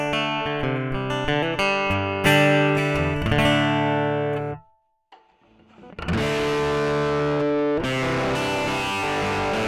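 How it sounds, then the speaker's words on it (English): Heavily distorted, fizzy strummed acoustic guitar chords through a distortion pedal ring out loud, break off into near silence for a moment, then resume with more harsh strumming. "what kind of sound you get from just a straight up distortion pedal through an acoustic"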